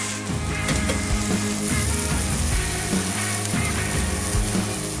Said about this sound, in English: Give them a quick flip.